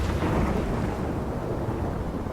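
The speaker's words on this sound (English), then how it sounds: "I'm trapped in a storm?" Thunderstorm in the video game Life is Strange: a steady, dense rumble of thunder and rain-like noise, loud and unbroken throughout, with no voices.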